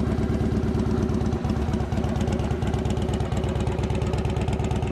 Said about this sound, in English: Nice sweet sounding exhaust.